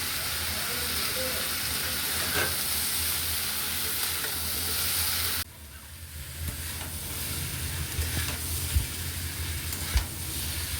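Carrots, peas and chopped tomato fry in oil in a pan over low flame, giving a continuous close sizzling hiss that drops suddenly partway through, then continues softer with a few sharp clicks.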